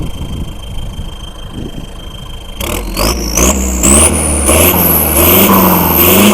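Car engine fitted with an L4708SP exhaust pipe, idling low and then revving up hard in rising, climbing bursts, loud and close, with no talking.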